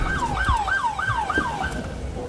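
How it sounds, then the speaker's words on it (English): A loud, close police siren wailing in rapid rising-and-falling sweeps, with a low road rumble underneath, on a Los Angeles street during a federal raid. "Lights and sirens on."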